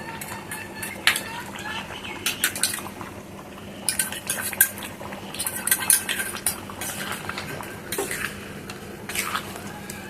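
Mutton curry with cardamom, cinnamon and garam masala paste being stirred in a pot, a spoon repeatedly clinking and scraping against metal in irregular bursts over a soft, wet bubbling.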